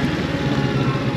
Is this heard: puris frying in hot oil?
no